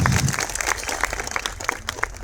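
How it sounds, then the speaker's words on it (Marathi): Applause at a Marathi poetry gathering (kavi sammelan): a steady wash of clapping from a large audience. It fills the brief moment at an even level, loud and close, with no voice over it. "या गोष्टीसाठी एकदा जोरदार टाळ्या वाजवा."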